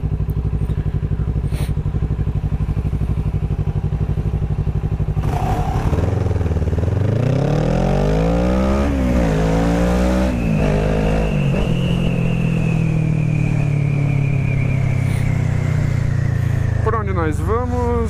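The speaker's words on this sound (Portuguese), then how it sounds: "tem um cara com a Ninja 650 aqui atrás de mim" A Kawasaki Ninja 650 sport motorcycle rides close behind on a city street, its engine revving and climbing through gears with rising and falling pitch, loud and near over steady road and wind noise.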